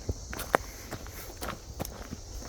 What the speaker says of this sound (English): I'm gonna creek stomp for a little bit, see how that works out.